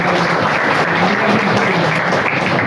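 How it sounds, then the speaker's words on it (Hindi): Loud, sustained applause from an audience at a Diwali celebration after solo performances, a thick continuous wash of many hands clapping throughout. "अगेन एक बार जोरदार तालियां हो जाएगी।"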